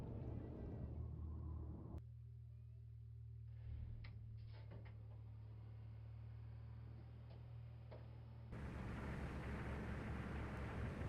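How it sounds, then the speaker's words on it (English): In the Silent Hunter 4 submarine game, a nearby ship's engines are heard from inside the sub as a very faint low rumble with a steady ticking throb. The hum keeps on through the whole stretch, and the background noise changes partway through. "someone is so close that I can hear the engines from within the sub."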